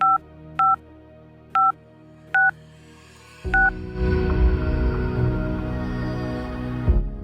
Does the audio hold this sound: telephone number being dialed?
yes